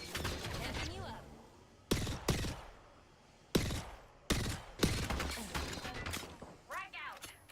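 Gunfire in the video game Apex Legends rings out as loud, sharp bursts and rapid volleys separated by short gaps, mixed with other busy in-game sounds.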